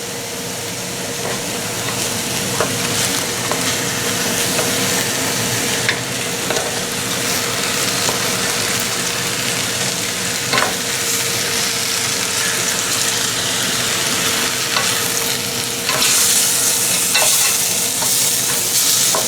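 Tomato sauce goes into a pot of sizzling bone-in pork shoulder, producing a loud, continuous frying hiss and bubbling with occasional stirring scrapes, rising in intensity near the end.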